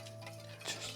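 A utensil stirs stir-fried pork liver in a wok during a Shandong-style quick fry, with a short scrape and clink of metal over a faint background hum, no talk.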